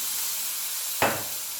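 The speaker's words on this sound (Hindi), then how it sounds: "और वो चिकन इसके अंदर डाल के मैं इसको अच्छे तरीके से फ्राई करूँगी" Chicken pieces dropped into hot oil for a chicken aloo curry, a sudden loud sizzle bursting over a steady frying hiss and then settling into a continuous crackle.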